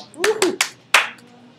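Four sharp hand claps in an uneven rhythm, close and loud, with a voice faintly underneath the first few.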